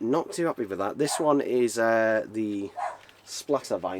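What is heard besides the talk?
No distinct noise like a dog, phone or traffic.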